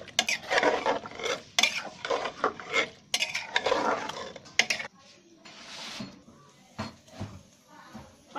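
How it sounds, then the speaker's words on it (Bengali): A spoon scrapes and clinks against a pan while dry chili powder is gently stirred, giving irregular close metallic taps and rustling scrapes, with a voice speaking intermittently. "এটা আমি এখন একটু আলতোভাবে নেড়ে দেব"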